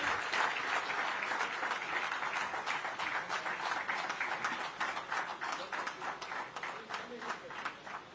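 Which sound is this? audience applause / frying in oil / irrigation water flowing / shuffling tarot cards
audience applause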